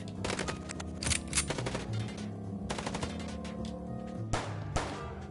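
Gunfire in the Chicken Police video game: rapid bursts of automatic shots and sharper single cracks, loud and close, over a droning background score without speech.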